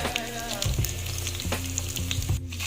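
Cabbage sautéing with sardines in a pan gives off a steady sizzle, with clinks and scrapes of stirring close by and no speech.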